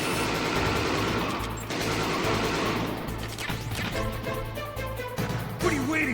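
Gunfire in a Metal Gear Solid game, dense overlapping shots and crashing impacts mixed with game music and effects, loud and continuous throughout.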